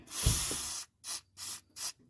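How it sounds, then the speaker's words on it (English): WD-40 penetrant sprays onto a rusty band clamp near a hot turbo: one long hissing burst, then three short quick squirts, close and alone. "spray a little WD-40 or other penetrant that you might have"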